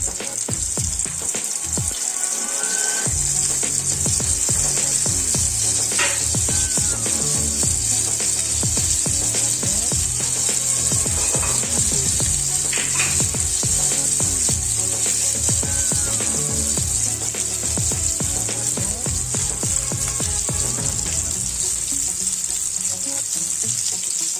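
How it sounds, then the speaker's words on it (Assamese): Sliced bitter melon added to hot oil with whole coriander seeds, cooked over a low flame, giving a loud, continuous hiss of sizzling with occasional faint clinks and pops throughout. "এতিয়া তিতা কেৰেলাখিনি লাহে লাহে দি দিম"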